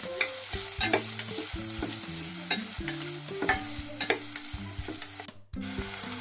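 Onion frying in hot oil with mustard seeds, cumin and asafoetida, a steady sizzle broken by repeated clinks and scrapes of a spoon stirring the pan, with a brief dropout near the end.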